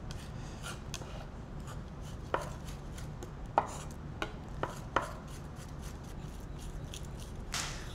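Knife on a cutting board working minced garlic with salt into a paste, with a few sharp chops and scattered taps over a steady low rubbing and scraping of the blade's flat side, close and fairly quiet.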